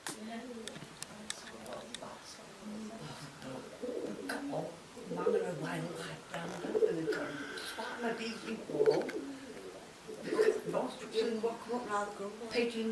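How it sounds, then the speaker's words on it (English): Soft, repeated pigeon coos inside St Mary Church, Colston Bassett, recurring every couple of seconds, fairly faint and echoey, heard under people talking. "That's the pigeon."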